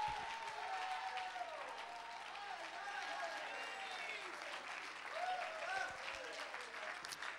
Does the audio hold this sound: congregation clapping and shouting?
yes